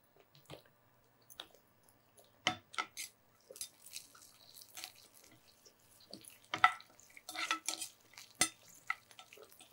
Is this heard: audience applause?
no